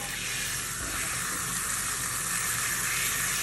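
Water splashes and rushes steadily while a pet monkey is bathed, a close, continuous wash of sound with no break.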